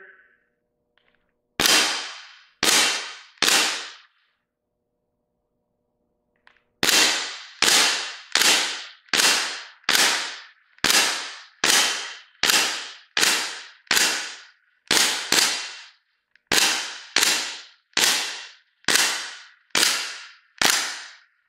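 A KWA gas training pistol fires at laser targets. Each shot is a sharp, loud crack with a short ring-off. There are three quick shots, a pause of a few seconds, then a long even series of about fifteen more, close by.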